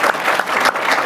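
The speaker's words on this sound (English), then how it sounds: "Yeah, you can clap. You can clap for that." A live audience at a ComplexCon panel discussion claps together, producing a loud, dense, continuous wash of applause for about a second.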